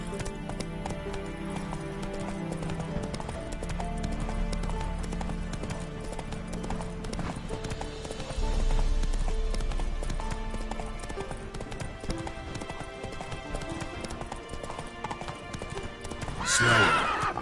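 Horse hooves clip-clop at a galloping pace in a PS4 video game, a steady rhythmic run with a whinny near the end, set against a dense game soundtrack.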